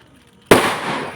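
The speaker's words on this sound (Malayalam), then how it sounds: "എല്ലാരും പടക്കം പൊട്ടിക്കാം." A single firecracker bursts with a sharp, loud crack after a brief near-silence, then a rough, fading rumble trails off over the following second.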